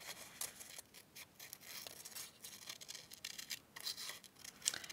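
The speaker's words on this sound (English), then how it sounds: "I'm going to fussy cut my kangaroo out." Scissors fussy cutting a paper kangaroo, with faint, close, irregular snips and paper rustles repeating in short bursts.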